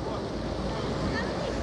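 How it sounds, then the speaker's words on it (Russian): Sea surf washes along the Anapa waterfront in a steady, broad rush with wind buffeting the microphone, the sound continuous and moderately close. "Шум моря доносится сегодня"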